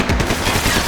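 Gunfire from the Max Payne 3 video game: a dense, loud burst of rapid automatic shots filling the whole short moment, with no talk over it.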